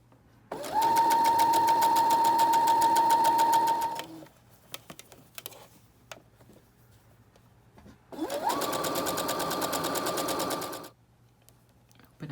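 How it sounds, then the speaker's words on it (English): Sewing machine stitching the back neck edge of a duster, running in two loud steady bursts of about three seconds each, with a quiet pause of faint handling clicks between them. "you'll just turn it in and continue to stitch"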